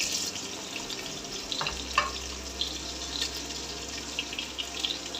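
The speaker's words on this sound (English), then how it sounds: "take almost 250 ml of oil, and then we'll add onions for frying" Steady sizzling and crackling of onions frying in about 250 ml of hot oil in a pan, with a couple of brief clinks and stirring sounds, close up and continuous.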